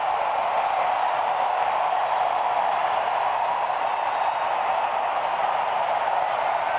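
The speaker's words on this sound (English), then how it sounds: "You see the crowd, they're going crazy for it." A stadium crowd roars after a goal at an NWSL women's soccer match between Chicago and Portland, a dense, sustained wall of cheering and clapping with no break.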